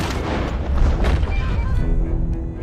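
Booming pistol shots fired in a video game set on Guarma island, several sharp broadband bursts in quick succession, loud and close, ringing against a dense background of game noise.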